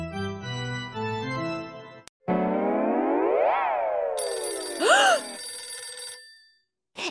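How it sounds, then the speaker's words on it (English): A cartoon telephone bell rings loudly and electronically after a short musical passage, followed by swooping sliding tones and an echoing effect, then a brief final ring. "It's just the phone."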